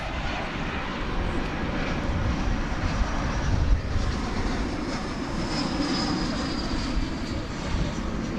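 A plane passes at DFW airport at night, a steady broad engine roar that stays loud and close for the whole stretch, with a thin whine rising partway through.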